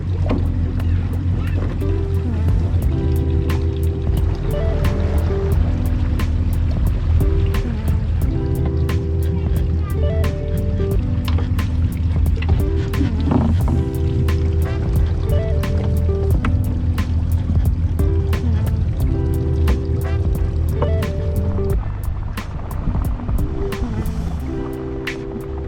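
An Axopar 37 boat getting underway on open water, its engine droning loudly and continuously alongside water rush and wind, with brief tonal beeps recurring and occasional voices in the background.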